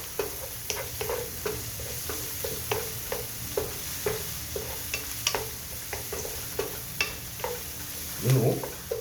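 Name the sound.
egg omelette frying and being stirred in a pan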